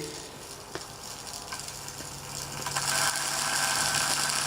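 A rewired beater mixer motor runs with arcing brushes, giving a steady rattling, crackling whir that grows louder and harsher toward the end, with no voices.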